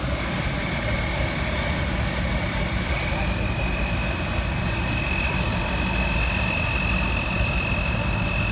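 A 1973 Allis-Chalmers Model 210 row crop tractor runs steadily at a tractor show, its engine a continuous low rumble with a faint high whine, heard close and unbroken throughout.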